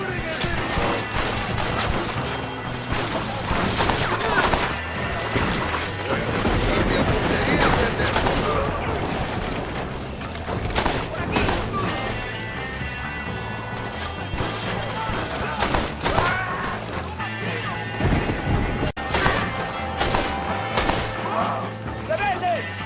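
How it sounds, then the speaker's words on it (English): Gunfire in Red Dead Redemption crackles continuously as a chaotic shootout, loud rapid shots layered with crashes and hoofbeats, while voices shout over the battle throughout. "Stop shooting at me!"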